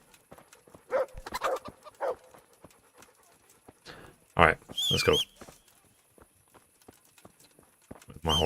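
A horse's hooves clop in scattered bursts of steps in the medieval game Kingdom Come: Deliverance, mixed with other game sounds. Someone speaks briefly over them.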